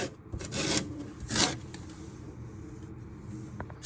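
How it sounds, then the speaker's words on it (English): Orange zest grated on a sharp hand grater for an orange cake: two short rasping up-and-down strokes near the start, then quieter scraping and handling sounds, close by with no talking. "So you're now going to start grating your orange zest."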